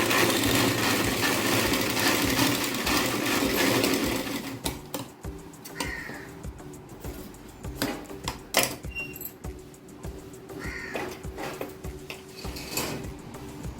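A sewing machine stitches blouse fabric in a dense, steady whirr for about four seconds, then stops into scattered clicks and handling knocks of cloth and machine parts.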